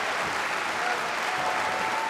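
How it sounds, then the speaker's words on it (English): A dense, steady roar and applause from the crowd at an OKTAGON MMA fight, loud and continuous throughout without any break. "And the crowd is roaring"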